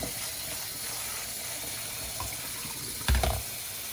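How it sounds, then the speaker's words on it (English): Beans being washed under running tap water, a steady hissing stream that goes on throughout, with a brief louder splash near the end and no talking. "So you're gonna wash your beans"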